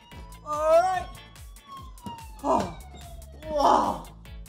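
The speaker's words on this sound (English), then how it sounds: "And we have the siren." A toy police car siren at an indoor playground wails in falling sweeps over a rhythmic electronic pulse, with an excited voice exclaiming loudly over it.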